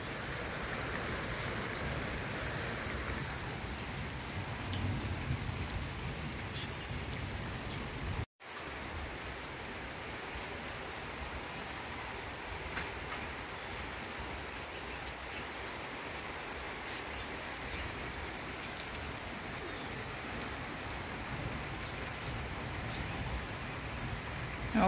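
Steady, calm rain falls on a house roof in a continuous soft hiss, with a brief dropout partway through and no clear individual drips from the leaking roof standing out.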